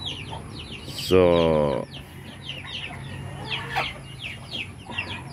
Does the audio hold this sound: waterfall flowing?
no